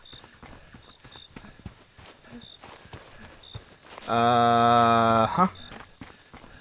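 Footsteps move through a found-footage style video game, soft repeated steps under faint game ambience, broken by a loud sustained tonal blare near the end; a voice briefly reacts.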